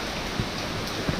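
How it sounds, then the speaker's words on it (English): Steady rain falls on Koh Chang island in Thailand during the rainy season, a dense close hiss with a couple of low thumps and no voices. "Unfortunately, the rain has got us once again."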